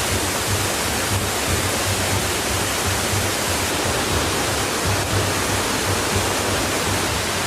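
Water rushes loud and constant in a rainforest, a dense, unbroken roar like a nearby waterfall or stream, with no voices over it.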